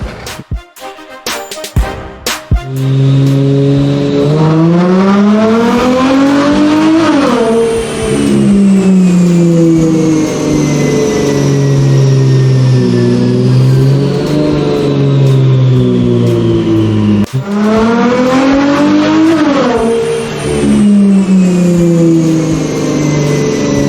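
A 2014 Chrysler 300 on a dyno roars loud and close through repeated wide-open pulls, engine pitch climbing steadily, dropping at each shift and climbing again, with no talk over it.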